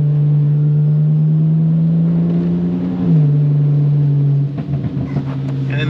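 A stock car engine pulls hard under throttle with a loud, close, steady drone, then dips sharply as it shifts from second to third gear and carries on, with a rougher stutter of throttle near the end.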